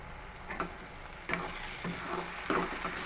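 Onions fry with green chillies and salt in a pan for an egg curry, a close sizzle punctuated by a few stirring scrapes and clinks.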